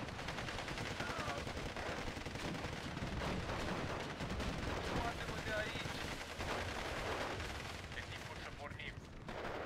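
Gunfire and artillery from the World War II game Steel Division 2, a dense continuous barrage of shots and booms, with a voice occasionally heard under the battle noise.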